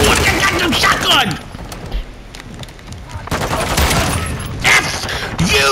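Shotgun blasts from an Expedite-12 in a video game, loud sharp bursts at the start and again near the end, with excited voices shouting over the gunfire.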